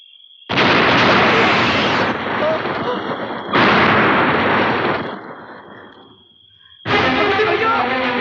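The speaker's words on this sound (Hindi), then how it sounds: "अगर इस बम ने ये दीवार उड़ा दी तो समझ ले भगत बच गया।" Bomb blasts tearing open a prison wall: several loud, close explosions with long rumbling tails, separated by brief lulls, the last burst landing near the end.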